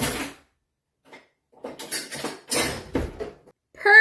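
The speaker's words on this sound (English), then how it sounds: "Let's cut the steak." A knife saws through a cooked steak on a plate with a few short scraping strokes and light clinks of cutlery, close and clear in an otherwise quiet room.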